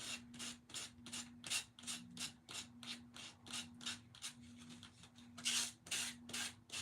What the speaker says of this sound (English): No fussing with scissors or a blade, just use sandpaper